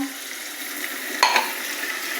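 Ground ginger, garlic and green chilli paste with fried potatoes sizzling in a pan, a steady close hiss with a brief scrape of stirring midway, no talk heard.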